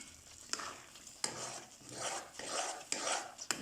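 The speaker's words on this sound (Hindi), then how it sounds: "इसको अच्छी तरह से भून लेंगे।" Moong dal halwa with sugar is stirred and roasted in a pan: close, repeated scraping strokes of a spoon against the pan with a soft background sizzle, and no talking.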